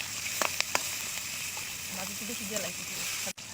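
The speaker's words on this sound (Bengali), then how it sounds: "এই দেখেন আমাদের পেঁয়াজ মরিচ ভাজা হচ্ছে" Onion and chili fry in a pan with a soft, even hiss of sizzling oil, quiet and close, with a few light taps and faint voice traces under it.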